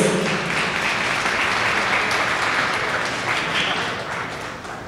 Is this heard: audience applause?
yes